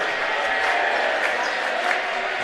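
A packed gym crowd with a full student section at a boys' basketball game between Central and Hillsborough, a steady dense roar of voices that holds loud and even throughout.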